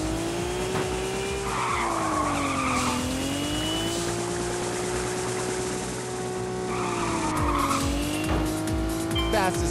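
Race car in the video game Little Racers STREET, a loud steady engine drone that sweeps up and down in pitch, with screeching tire skids breaking in at intervals.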